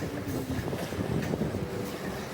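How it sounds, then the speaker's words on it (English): Motor running aboard a Cabo Rico 42 sailboat at sea, a steady low drone mixed with wind buffeting the microphone and water noise, continuous and fairly loud with no talking. "Why are we still running our motor?"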